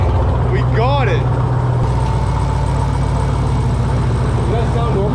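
A Jeep Trackhawk engine idles with a low steady rumble close by, while brief voices are heard over it.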